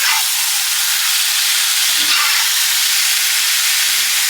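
Rotel tomatoes added to a hot pan with shrimp, letting out a loud, steady, steamy sizzle that hisses continuously throughout.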